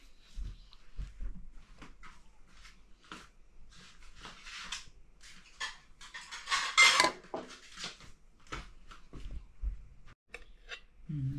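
Plates and spoons clatter in a kitchen while egg pudding is served, with sharp close clinks and scrapes of crockery and cutlery in irregular bursts, a louder cluster midway, and brief talk.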